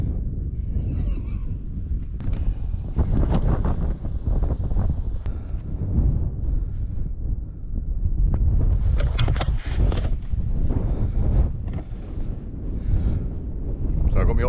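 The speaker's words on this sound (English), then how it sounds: "Got a bit breezy up here now" Strong gusty wind buffets the microphone at an exposed hilltop wild camp with a Zelter shelter in the U.K., roaring continuously in uneven surges.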